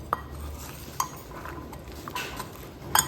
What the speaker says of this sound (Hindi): मैं डालूँगी इसमें, तो मैं इसमें डालूँगी चाट मसाला और इसको अच्छे से मिक्स करूँगी